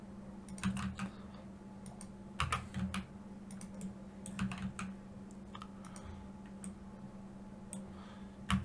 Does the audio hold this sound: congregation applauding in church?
no